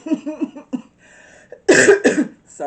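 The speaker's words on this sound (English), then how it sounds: "Sorry, I still have a cough." Person with a lingering illness coughing: a couple of harsh, close bursts in the middle, set between stretches of low murmured talk.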